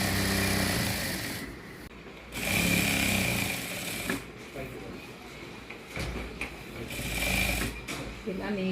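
A sewing machine stitching the cotton lining of a blouse, running in loud close bursts with short pauses between them, while a voice talks over parts of it.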